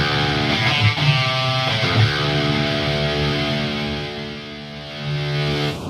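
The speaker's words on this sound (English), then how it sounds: "This is the standard amped multi-track preset and it sounds like this." A heavy, distorted 7-string electric guitar from the Axe Machina library, amped multi-track preset, plays chugging low riffs and sustained chords. The tone is thick, saturated and close, with no voices.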